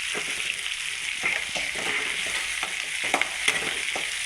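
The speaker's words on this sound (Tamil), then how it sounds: "வெங்காயம் நல்லா வதங்கிடுச்சுங்க இப்போ பாருங்கள் தேங்காய் போட்டுக்கலாம்" Onions and grated coconut sauté in a pan for a Vallarai keerai dish, a steady close sizzle with scattered clicks of stirring and no talk.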